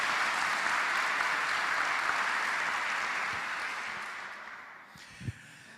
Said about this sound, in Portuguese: Dá uma salva de palmas para a palavra do Senhor.